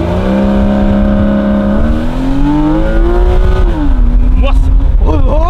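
A small Porsche Boxster in sport mode accelerating hard, its engine rising loud and close through the gears with rapid upshifts and climbing revs, heard alone at full volume.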